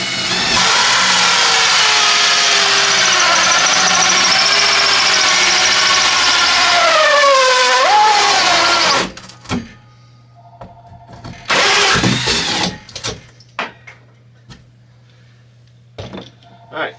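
A power drill bores a hole through wood paneling for cables. The motor whines loudly for about eight seconds, drops in pitch as it slows, and stops, followed by quieter handling clatter and short bursts.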